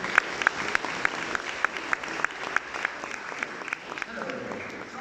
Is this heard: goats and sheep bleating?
no